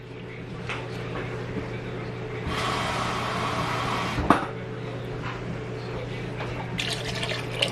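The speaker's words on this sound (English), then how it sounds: "Okay, I'm gonna add a little bit of water." Water pours into a pot for a few seconds, a soft splashing stream with a clunk of the pot, over a steady background hum.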